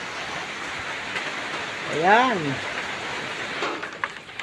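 Steady rain pours down as a continuous broadband hiss, with a voice briefly heard over it.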